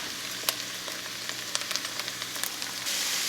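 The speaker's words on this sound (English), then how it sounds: "we're just going to saute that for another minute or so until our garlic starts to become fragrant" Garlic and sliced carrots sautéing in a pot for soup, a soft steady sizzle with scattered crackles and light taps of stirring, close and fairly quiet, growing a little louder near the end.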